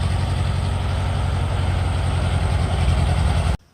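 A World War II-era Ford 9N tractor engine with a stuck clutch idles steadily up close with an even low chugging rumble that cuts off abruptly near the end.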